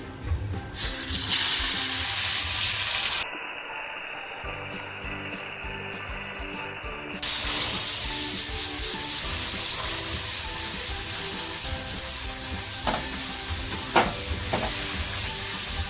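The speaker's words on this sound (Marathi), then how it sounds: "तेल बघा छान तापलेलं आहे आत्ता ज्या मी शेवंड्या घेतल्यात ना त्या शेवंड्या मी याच्यात सोडणार आहे" Spiny lobsters sizzle in hot oil for a smoky masala fry, giving a steady, close frying crackle. The hiss briefly thins, then returns at full strength, with a few sharp pops near the end.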